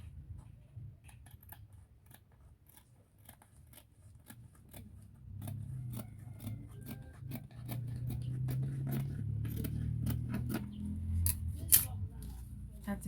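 Scissors cutting through Ankara fabric, a series of quick, faint snips and crisp blade clicks repeating irregularly over a low background rumble, with some soft handling noise.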